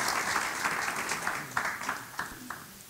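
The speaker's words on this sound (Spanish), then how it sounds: "Un aplauso a Dios por ellos" A church congregation breaks into applause, dense clapping that peaks early and then thins into scattered individual claps as it fades.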